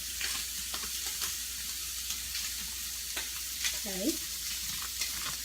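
Spaghetti squash sautés in a pan with a steady close sizzle and repeated scraping strokes of a utensil against the pan; a brief spoken word is heard once.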